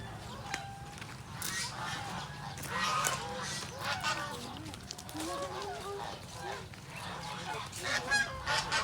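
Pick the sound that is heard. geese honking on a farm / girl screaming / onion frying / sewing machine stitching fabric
geese honking on a farm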